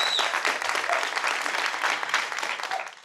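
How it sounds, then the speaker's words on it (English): Studio audience and judges clap in a lively round of applause on a televised leadership competition show, dense and even before trailing off at the end. "Judges, please give them a round of applause."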